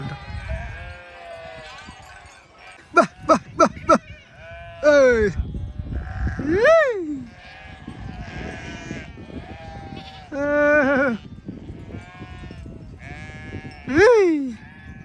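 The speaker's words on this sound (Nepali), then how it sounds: "ल भेडाहरू लागेर आउँदैछन् है।" Sheep bleat repeatedly, some nearby and loud, others softer, with quick pulsed calls, amid people talking quietly in the background.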